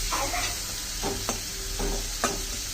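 Dried fish fries in hot oil in a pan, giving a steady, close hiss of sizzling broken by a few stirring scrapes and clacks. No one speaks.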